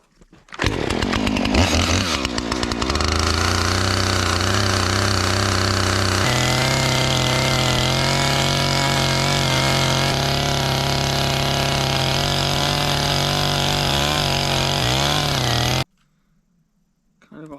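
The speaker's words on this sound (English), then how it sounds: "I'll go back and forth with my chainsaw and make this level." A chainsaw roars loudly and up close as it levels a log for cabin door framing in snowy winter woods, revving up then holding a steady cutting drone for about fifteen seconds before cutting off abruptly.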